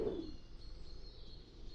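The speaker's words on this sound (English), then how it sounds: "the birds are singing" Birds sing outdoors on a calm morning at a French chateau, faint and distant, with thin high calls drifting over a quiet background.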